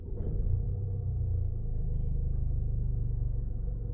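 A 2018 Land Rover Discovery Sport 2.0 TD4 diesel with push-button start fires up and settles into a low, steady idling rumble, heard close and alone for a few seconds.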